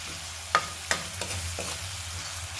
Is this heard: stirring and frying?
yes